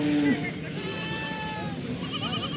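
Goats bleat in a busy Chakwal goat market in Pakistan, where desi Beetal mix and Rajanpuri breeds are on show. Bleats rise over steady crowd noise while someone talks throughout.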